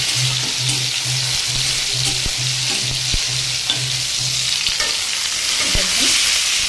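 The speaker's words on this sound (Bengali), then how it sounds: "আর দেখুন এদিকে ভেন্ডি ভাজি বসিয়ে দিয়েছি" Okra frying in a pan for a Bengali home lunch, a steady close sizzle and crackle with a faint low hum and occasional light stirring clicks, no talking.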